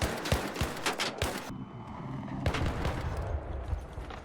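Weapon fire in the video game ARC Raiders aimed at a robot's weak point: rapid bursts of sharp shots, a pause, then another sustained volley, loud and close with no voices.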